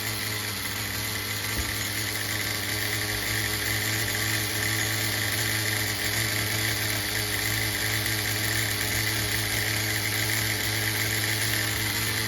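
An HPI MT2 nitro RC truck engine idles steadily throughout, a continuous loud buzzing drone with a high whine and no pauses or talk.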